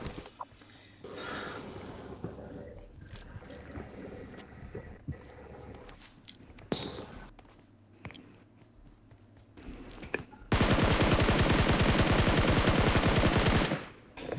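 Automatic gunfire in the mobile battle royale game PUBG Mobile, sustained rapid bursts that ring out loud for several seconds after a stretch of quieter ambient game sound with scattered shots.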